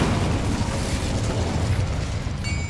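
An Incendio fire spell goes off in Hogwarts Legacy with a sustained loud roaring blast. It stays dense and rumbling for the whole moment and does not fade.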